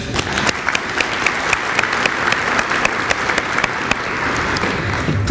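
Sustained applause from a banquet audience at a chamber of commerce luncheon, steady dense clapping with scattered sharper claps, continuous for several seconds without talk.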